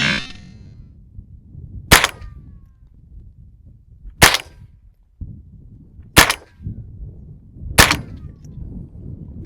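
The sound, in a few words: 22 rifle gunshot at eye protection target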